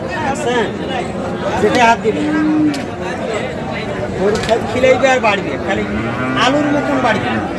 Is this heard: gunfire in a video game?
no